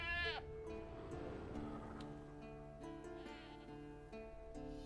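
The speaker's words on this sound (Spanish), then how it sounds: "Está la cabra acá gritando." A goat tied to a stake as bait in The Witcher 3 bleats loudly and repeatedly, wavering cries over a steady game soundscape while someone talks over it.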